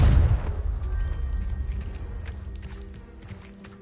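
A Confringo fire spell explodes in Hogwarts Legacy, a loud booming blast up front that decays into a rumbling tail with scattered crackles and debris over several seconds.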